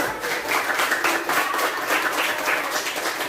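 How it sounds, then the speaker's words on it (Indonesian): A room full of people claps together in sustained, even applause, dense and steady for a few seconds with no voices standing out. "Tepuk tangan dulu buat Lena."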